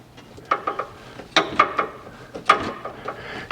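Hand-tightening a UNI air filter clamp on a Kawasaki KRX intake, a series of separate sharp ratcheting clicks and small metallic taps, close and irregular, with no talk.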